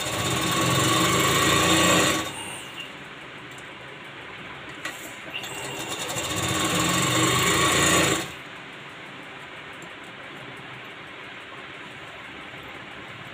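A sewing machine stitches a blouse in two bursts of fast, buzzing running, each a few seconds long, with a quieter pause between them and low background hum afterward.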